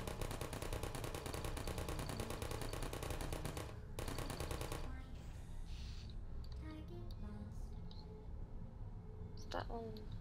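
Rapid automatic turret gunfire from the video game Portal Reboot rattles steadily for about five seconds, then gives way to quieter game sounds and scattered beeps, with a person talking over it.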